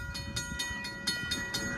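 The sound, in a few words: SEPTA Silverliner 4 train passing and blowing horn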